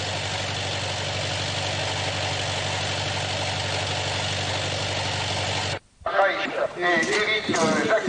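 Enduro motorcycle engines idle and rumble steadily at the start of a 1994 Bretzel Vert vintage enduro, a dense continuous drone that cuts out abruptly near the end, followed by a commentator talking over quieter ambient noise.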